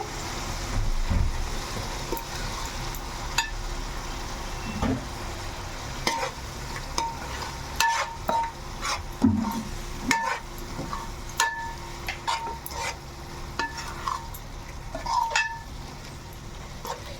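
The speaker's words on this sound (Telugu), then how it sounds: "అల్లం పేస్ట్ పచ్చివాసన పోయేదాకా మనం బాగా ఇలా వేపుకోవాలి" Ginger paste fries in a pan for a fish curry, a continuous sizzle under repeated scraping and clinking of a spoon against the metal pan in an uneven stirring rhythm, close and moderately loud.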